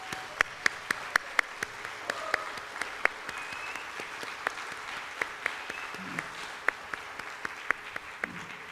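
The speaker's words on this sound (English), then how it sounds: "let's give them another round of applause" Applause from an awards ceremony audience, with sharp individual claps popping out over a steady wash of clapping that runs throughout.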